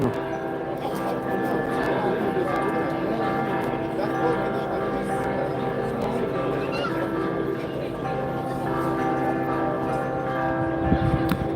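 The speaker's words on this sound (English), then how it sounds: "Now we are hearing the church bells, the church of Msida, the Msida parish." Church bells of the Msida parish in Malta ring continuously during a festa, layered, sustained tones filling the air over a busy background with some faint voices.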